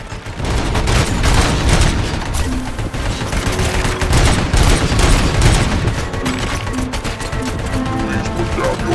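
ED-209 in RoboCop: Rogue City unleashes a heavy robotic gunfire attack, dense repeated shots and booms pounding loudly and continuously up close through most of the stretch.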